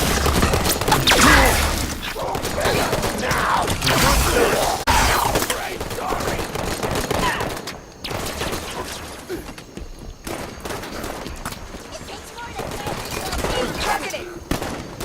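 Heavy, sustained gunfire in Halo 5: Guardians, dense overlapping bursts and impacts that run loud throughout, with game voices calling out over the shooting.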